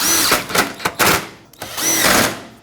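Power tool driving the mounting bolts on a replacement performance headlight for a 2009-2014 Ford F-150, two loud close whirring bursts with short pauses, the second longer and steadier, no voices.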